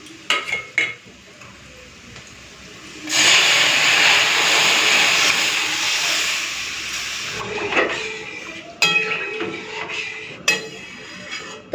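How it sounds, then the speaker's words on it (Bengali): Thin masoor dal is poured into fried onions in a hot pan, setting off a loud, sudden sizzle that lasts about four seconds. Scattered clinks and knocks of utensils come before and after it. "তো চলুন পেঁয়াজটা ভাজা ভাজা হয়ে গেছে, এখন ডালটা ঢেলে দিই।"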